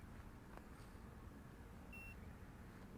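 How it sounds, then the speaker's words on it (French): A Nut Bluetooth smart tracker, attached to a set of keys, gives a single short, thin electronic beep, faint against a low background hum in a quiet room. "Et maintenant autour de moi j'entends un petit bip."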